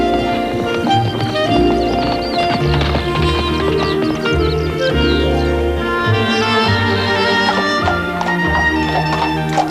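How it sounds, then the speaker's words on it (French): Horse hooves clip-clop steadily over a dense bed of orchestral music, with a brief whinny somewhere in the mix. "C'est un très bon cheval."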